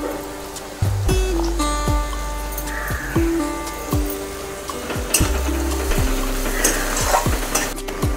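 Spices and fresh coriander sautéing in a pan for an okra dish, a continuous sizzle with repeated scraping stirs, while sustained ringing tones sound in the background.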